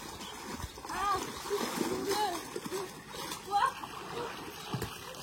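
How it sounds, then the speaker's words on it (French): Water splashes and sloshes in a swimming pool as a child makes small waves, an irregular series of nearby splashes under the chatter of children and adults. "Pendant que Maëlle fait toujours ses petites vagues"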